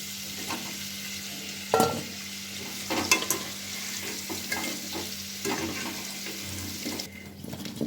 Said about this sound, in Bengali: আলুগুলোও কিন্তু একদম লাল লাল করে খুব ভালো করে আমি ভেজে নিয়েছি।